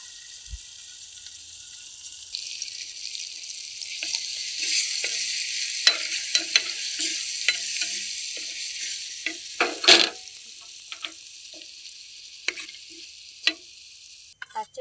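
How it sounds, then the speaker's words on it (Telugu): Tempering for a roti chutney sizzling hard in a pan at close range, a loud hiss that builds and then gradually tails off, with scattered clicks and spoon taps, and no speech. "తాలింపు దాంట్లోనే వేసేసుకోవాలి"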